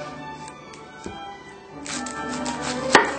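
A French knife cuts through an onion on a cutting board, giving a few crisp taps early on, then a denser run of chopping strokes that ends with one sharp, louder knock.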